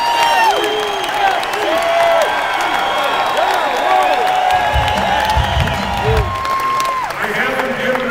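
A large political rally crowd cheers and whoops continuously, with scattered shouts and some clapping, loud and sustained throughout.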